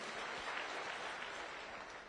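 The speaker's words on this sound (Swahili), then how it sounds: "Tumpigie makofi mazuri." An audience at a funeral gathering claps steadily, a dense, even patter of applause at moderate distance that carries on throughout.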